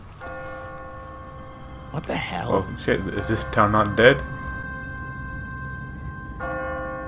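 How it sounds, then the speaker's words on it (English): An automatic church bell tolls on a timer in The Walking Dead game, sounding steady, ringing strokes near at hand. A man's surprised speech briefly cuts across the middle of the ringing. "What kind of church bell goes off at 20 past the hour?"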